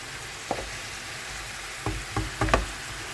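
Chopped onion dropped into hot oil in a frying pan while cooking a mushroom dish, a quiet steady sizzle broken by a few sharp crackling bursts as pieces hit the pan.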